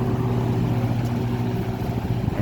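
A vintage Country Aire C-720-5 box fan with a GE motor runs on high, giving a steady, continuous motor hum and airy whoosh with a low tonal drone and no talk.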